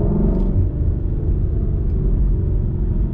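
A 2017 Ford Mustang GT engine gives a deep, steady low rumble heard close and fairly loud, with a slight pulsing throb throughout.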